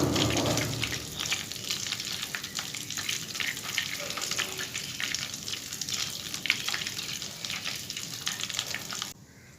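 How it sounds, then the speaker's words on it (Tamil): Milk cream boiling down into homemade ghee in a pan, a steady dense crackling sizzle with constant popping bubbles, close and continuous for nearly ten seconds before cutting off abruptly. "கொதிக்கிற சவுண்டு வால்யூம் மியூட் பண்ணாமல் நான் உங்களுக்கு ஆன் பண்ணி காட்டியிருக்கேன்."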